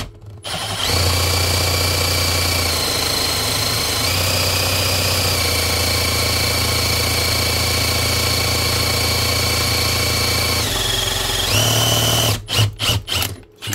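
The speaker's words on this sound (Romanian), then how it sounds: "Acum se blochează în pereți, nu se mai blochează bormașina." A Hikoki or Ruko power drill with an earth-electrode driving attachment hammers a grounding rod, running loud and steady for about eleven seconds, shifting pitch a few times before stopping in short bursts.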